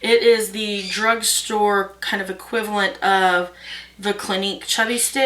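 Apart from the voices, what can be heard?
No everyday noises stand out.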